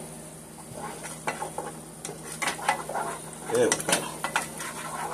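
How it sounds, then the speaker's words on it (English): Apricot preserves cooking down in butter in a pan, stirred with a utensil, giving soft scraping, clinking and a light sizzle. A brief spoken remark comes near the start. "Just cook that apricot down in the butter."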